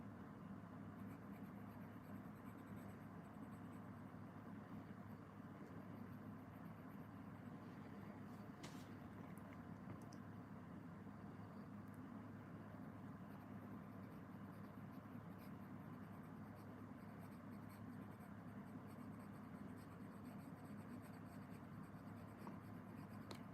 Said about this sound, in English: Still like to keep my pencil going horizontally,